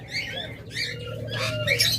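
Chattering pet lovebirds, budgerigars and Java sparrows in a breeding setup, mostly on eggs, trade quick overlapping chirps and tweets, close and fairly loud, over a low hum.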